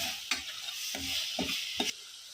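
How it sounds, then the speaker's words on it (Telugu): Stirring ground coriander, garam masala and chole masala mixture in a pan, four distinct scraping strokes of a spoon against the pan over a soft steady sizzle, with no talking. "కాస్తంత ధనియా పౌడర్, కొంచెం గరం మసాలా, అవన్నీ వేసుకొని మంచిగా కలుపుకోవాలి."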